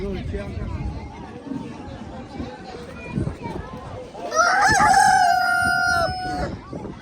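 A rooster crows loudly nearby at a poultry market in Khazorasp, a long rising and falling call, over a busy background of people chattering and clucking.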